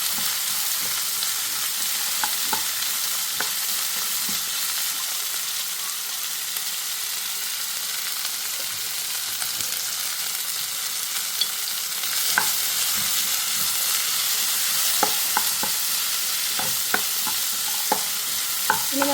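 Cauliflower with turmeric for thoran fries in a pan with a constant bright sizzle, broken by scattered scraping strokes of a spoon stirring the pieces, close and alone.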